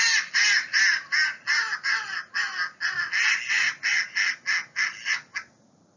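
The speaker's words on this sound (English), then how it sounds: "The mallard is a common duck species observed in Santa Clara County, which has a sound like this." A mallard duck quacks about fourteen times in a brisk, even series that tapers slightly toward the end. The calls are loud, close and carry no other sound.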